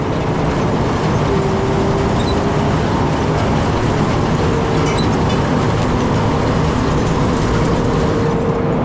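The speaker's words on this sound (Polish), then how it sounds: "mieści się kombajn chyba 8 czy 9 metrów długości i wjeżdża praktycznie z marszu bez żadnego cofania" A potato harvester combine, roughly 8 to 9 metres long, rolls straight into a potato field with a steady, loud, continuous engine and machinery rumble throughout, no voices.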